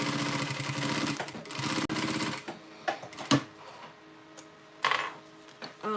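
A sewing machine stitches a modified Dreamer Pack in bursts of rapid mechanical whirring, separated by pauses and sharp clicks and clunks as the fabric is adjusted, with no talking.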